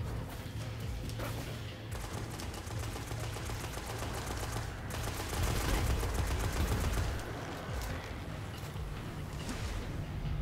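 Sustained rapid-fire shooting in the video game Destiny during a Prison of Elders round, a steady dense rattle of shots at moderate level running throughout with no pauses.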